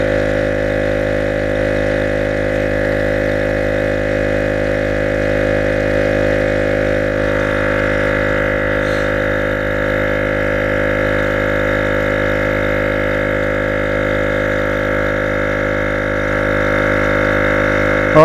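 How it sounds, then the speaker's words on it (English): A small portable electric tire air pump with a tiny piston runs steadily for a long stretch, a constant close mechanical drone with no breaks while inflating a car tire. "It takes a little while because it's just this very small piston going back and forth to create the air"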